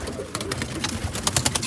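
California spinner roller pigeons coo softly in a loft, with rapid rustles and light wing flutters overlapping in a busy close stretch.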